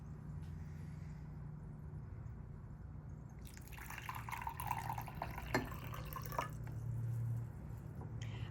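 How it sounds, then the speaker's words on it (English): Plain water poured from a container into a cup holding a tablespoon of baking soda, a soft trickling splash with light drips that swells midway, fairly close and alone with no voices. "Step 2, instead of vinegar, I'm going to add plain water."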